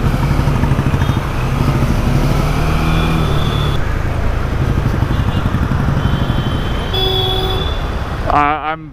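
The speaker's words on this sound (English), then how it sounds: "I got stuck behind a very slow lady on a moped" A moped crawls ahead in busy Indian street traffic, its engine a steady buzz under a dense wash of other cars, motorbikes and horn toots, with a louder honk and rising engine note near the end.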